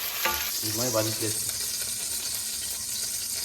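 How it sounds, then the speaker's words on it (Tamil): Potatoes frying in hot oil for Bengali aloo dum give a steady broadband sizzle that runs throughout, with a brief voice murmuring near the start. "நல்லா ஃப்ரை பண்ணுவோம்."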